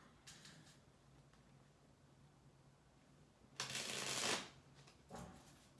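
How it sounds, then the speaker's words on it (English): Tarot cards shuffled and laid out on a table: soft papery riffles and slides, with one longer burst of shuffling near the end followed by a brief final flick, all close and fairly quiet. "Let's get some more cards out here."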